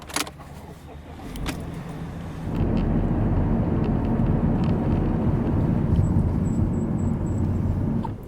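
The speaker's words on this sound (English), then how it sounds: "Let's do a quick driving tour of Figueira Da Foz before we head back." A car driving through the streets of Figueira da Foz, first a few clicks and rattles inside the cabin, then a steady engine and road rumble that grows louder and carries on to the end.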